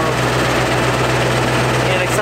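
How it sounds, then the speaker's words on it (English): A 7.3 Powerstroke diesel in a totaled truck runs steadily with its exhaust broken off at the turbo, giving a loud, constant low drone with a raw, buzzing edge throughout. "it does sound a little bit funky, that's because the exhaust broke off."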